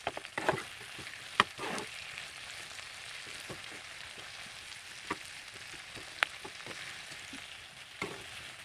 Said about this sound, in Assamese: তিনি মিনিটৰ পিছত মই কাটি থোৱা পিঁয়াজখিনি লগতে দি দিম আৰু এইখিনি ভালকৈ লৰাই ল'ম